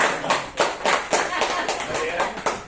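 An audience at a business seminar claps in rhythmic bursts, several sharp, loud group claps spaced about every third of a second, with some voices mixed in.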